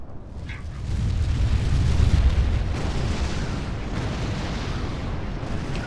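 Artillery fire and explosions in a Rome Total War siege battle, a loud, deep rumbling roar of distant booms that swells and then holds as a continuous low barrage.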